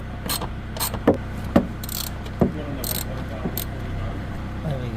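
Bolts being undone underneath a VW T4 van: a string of sharp metallic clicks and ratcheting clanks at irregular intervals, close by, over a quiet background with faint rustling.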